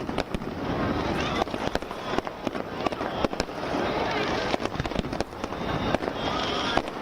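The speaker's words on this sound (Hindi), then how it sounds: "स्वर्ण मंदिर को खूबसूरती के साथ सजाया गया और साथ ही आतिशबाजी भी की गई।" Fireworks crackle and pop in rapid, irregular bursts over a steady crowd murmur during the Golden Temple's first Prakash Utsav celebration of Sri Guru Granth Sahib, with sharp reports scattered throughout.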